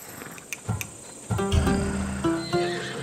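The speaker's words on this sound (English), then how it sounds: "That horse can cling to mountain passes like a goat." A horse in Assassin's Creed Odyssey gives a loud whinnying neigh after a few hoof clops, then a second shorter neigh.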